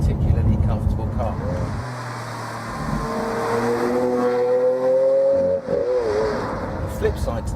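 A Lamborghini Aventador drives along a road, its engine a steady low drone with a rising whine as it pulls, while someone talks over it throughout.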